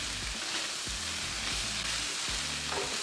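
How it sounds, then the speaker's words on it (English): Corned beef hash and potatoes sizzling on a griddle, a steady close hiss of frying with a few low scraping strokes from a spatula stirring the food. "It's time to combine our potatoes to make this a true corned beef hash."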